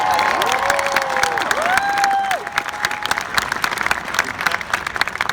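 Commencement audience at a university graduation ceremony applauding parents and families, a dense, loud wash of clapping and cheering that swells, then thins and fades toward the end.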